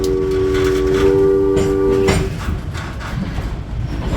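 A caboose's Hancock whistle sounds a steady, sustained chord for about two seconds aboard the Charlotte Valley Railroad's North Pole Express passenger train at night, then cuts off, leaving rumbling train noise and rattling cars.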